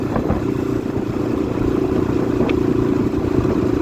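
A freshly serviced motorcycle's engine idles steadily close by, a smooth continuous low hum with a faint mechanical clatter and no rise in revs.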